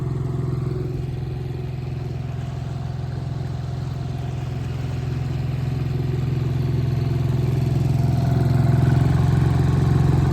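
A 7 hp engine bought from Amazon runs continuously on a boat during its first test, a steady mid-pitched motor drone with a slight clatter that grows gradually louder toward the end.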